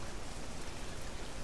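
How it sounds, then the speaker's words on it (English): Steady, even rain hiss from a video game, soft and continuous with no other sounds. "Still no idea when the rain will let up."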